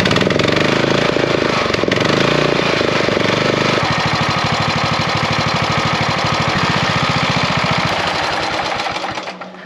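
A racing lawn mower engine cranks on a charger's start mode, then catches and runs with a loud, rapid, close mechanical chatter that holds steady before tapering off at the end.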